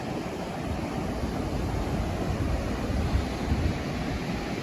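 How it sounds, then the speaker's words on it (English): Massive ocean waves surge onto a beach beside a campsite at Newgale, a steady loud wash of surf mixed with wind buffeting the microphone, with no talking. "look at those waves, they're massive over there."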